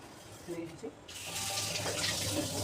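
A kitchen tap gushes steadily into a sink while cooking pots are washed, the water starting after a second of quieter handling sounds and then running continuously and close.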